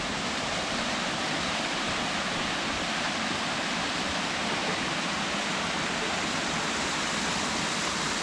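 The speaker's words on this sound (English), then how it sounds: "Not the biggest waterfall in the world" Small waterfall in Phuket, Thailand, a steady dense rush of falling water heard close and continuous throughout, with no voices.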